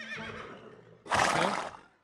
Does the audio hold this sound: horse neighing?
yes